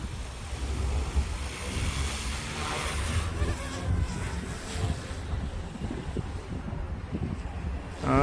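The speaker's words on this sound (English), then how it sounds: "It's a little windy today" Steady wind buffets the microphone outdoors, a broad rushing roar with gusty swells throughout, no voices.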